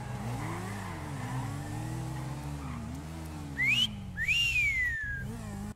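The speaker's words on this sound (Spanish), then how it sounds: "le tiró un chiflido" A person gives a sharp two-part wolf whistle, a quick rising note followed by a longer rise and fall. A car engine rumbles and revs steadily underneath and continues after the whistle stops.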